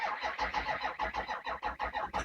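A 2005 Ford F250 with a 6.0 diesel engine cranks in a fast, even starter rhythm of about a dozen loud pulses, close by, then begins to catch at the end.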